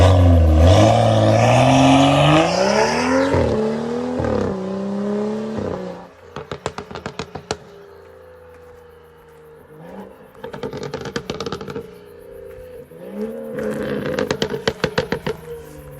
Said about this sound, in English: full turbo back straight pipe, nothing blocking the sound, and it is MHD stage 2 tuned medium burbles